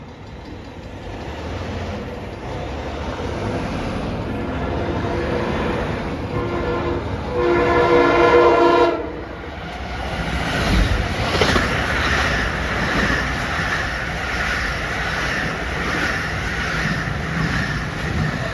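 LIRR M3 electric commuter train rolling past close by with a loud sustained rumble, a brief horn blast partway through, then continuing wheel and car noise.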